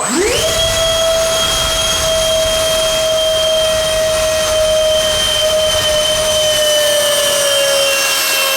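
Twin 64mm electric ducted fan motors on a crash-repaired SR-71 Blackbird model jet spool up on a thrust test into a loud, steady, high-pitched whine that holds constant, close by with no talking.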